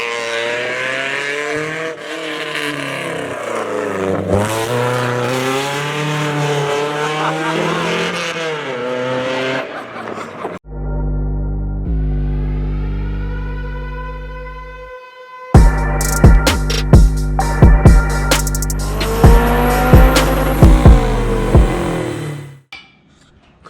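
A loud car engine with a custom exhaust revs up and down with a raspy, throaty note, followed by a steady drone and sharp pops.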